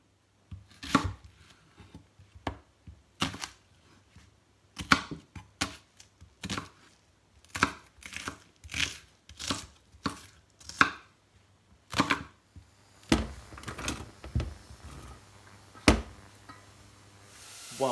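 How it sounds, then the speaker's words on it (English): A knife chops mushrooms on a cutting board in irregular bursts of sharp taps, sometimes quick runs of strokes, close and clear in a quiet room. "I'm going to chop up the mushrooms into bite-sized pieces"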